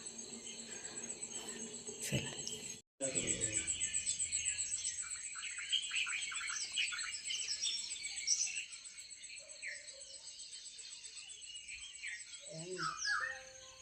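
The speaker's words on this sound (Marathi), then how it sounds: "पक्ष्यांचे खूप सुंदर सुंदर आवाज येतात सकाळी सकाळी" Birds chirp and call in the early morning before daybreak, bright twittering notes layered over a steady insect-like drone, with a brief silent gap and a fainter stretch near the end.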